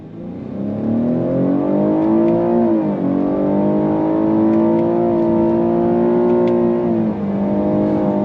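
A 2023 Cadillac XT6 Sport accelerates hard from a standstill while its 9-speed automatic is upshifted with the paddles, the engine note climbing in clear steps with distinct drops at each gear change, heard from inside the cabin.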